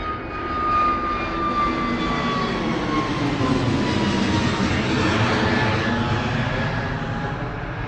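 An Airbus A320neo jet takes off down runway 09 at Bristol Airport with a loud, steady engine roar that holds throughout and includes a high whining tone.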